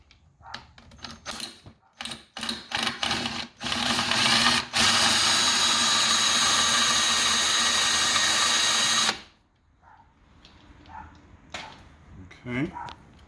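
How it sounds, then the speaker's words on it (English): A power drill from a Ryobi screw extraction kit bores out an oiled screw: a few short loud bursts, then one steady high whine for several seconds before it cuts off, with a voice talking quietly afterward. "So we'll go ahead and do our drilling."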